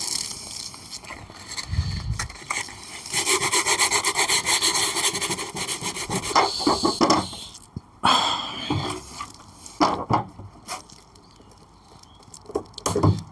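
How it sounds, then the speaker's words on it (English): Sandpaper rubs across a wooden Welsh dresser in a series of uneven scratchy strokes, with occasional knocks and pauses between passes, heard fairly close. "Just going to sand that down."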